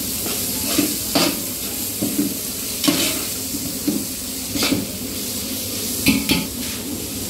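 Vegetables for pulao sizzle in a pan, with a spoon stirring and clinking against the metal in repeated close strokes over a constant frying hiss.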